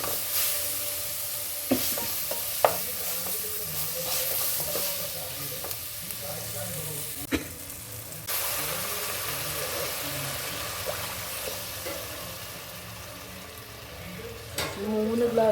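Onion, garlic and tomato are sautéed in a pan with sambar powder, giving a steady soft sizzle with stirring scrapes and a few sharp clinks of the spoon.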